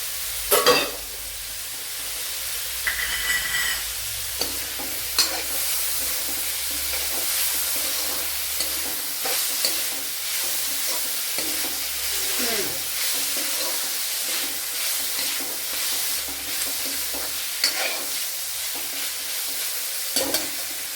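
Chopped medium-sized tomato frying in a chicken thoran masala, a steady close sizzle with repeated stirring scrapes and spoon knocks across the pan, no voices.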